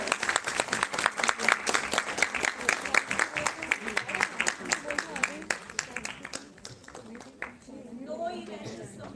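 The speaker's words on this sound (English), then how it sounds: "A big round of applause for her." Audience at a live event clapping in a steady burst of distinct, fairly close hand claps that thin out and fade, with a voice speaking near the end.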